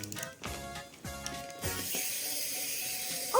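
A wind-up toy being wound by hand gives a few distinct ratcheting clicks, then a steady whirring mechanical buzz, heard close and alone.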